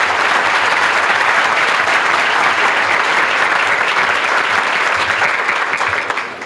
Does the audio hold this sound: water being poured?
no